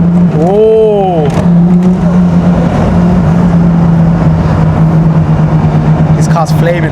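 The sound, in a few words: car engine revving loudly at a car meet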